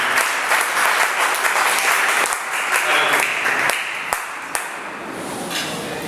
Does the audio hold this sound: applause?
yes